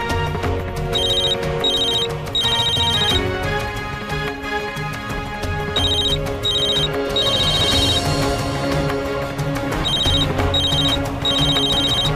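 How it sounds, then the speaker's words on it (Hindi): A mobile phone ringtone rings on and on without being answered, a loud repeating electronic melody in bursts that fills the whole stretch, in a Hindi TV drama scene. "आखिर ऐसी क्या बात है जो सौरा मेरा फोन नहीं पिक करेगी?"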